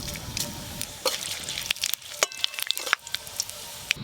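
Dry red chillies, a bay leaf and five-spice seeds sizzle in hot oil as a tempering for a light fish curry, a steady crackling hiss broken by sharp spits and pops, close and alone without talk.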